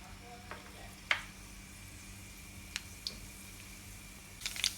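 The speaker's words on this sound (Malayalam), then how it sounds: "ഒരു ടീസ്പൂൺ കടുകിട്ട് കൊടുക്കാം." Mustard seeds sizzle in hot oil for a pickle, giving a faint, steady frying hiss close by, broken by a few sharp pops and crackles.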